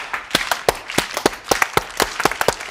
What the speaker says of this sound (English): Why are you all slow clapping?